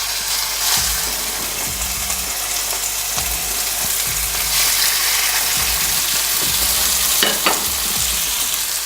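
Chicken breast sears in a hot pan, a steady dense sizzle and crackle of frying that holds for the whole stretch, with a few soft clinks and shifts of the pan underneath.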